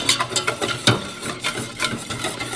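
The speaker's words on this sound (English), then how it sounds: "the idea is to incorporate all the flour into the liquid and whisk the entire time" A whisk working flour into liquid for homemade bread dough, giving a steady run of quick scraping, clicking strokes against the bowl, fairly close with no talk over it.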